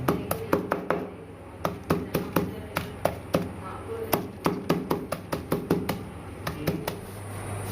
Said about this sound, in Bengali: হয়ে যাওয়ার পর এই মশলাগুলোকে গুঁড়ো করে নেব, হালকা করে থেতো করে নেব।